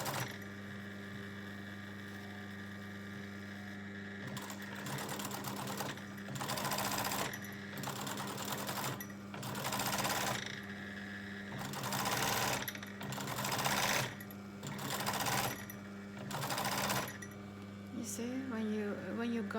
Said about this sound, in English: you have to sew it on the very edge of the hemline.